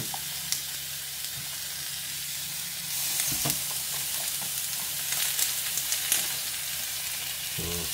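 Pork belly sizzles steadily in a hot pan, rendering its own fat with no oil added, as the base for adobo; a continuous close frying hiss with occasional scraping stir sounds and no talking.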